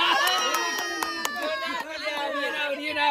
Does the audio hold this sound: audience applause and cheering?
yes